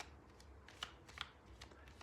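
A deck of tarot cards being shuffled by hand, with soft papery riffling and a couple of sharper snaps partway through, close and quiet with no voices.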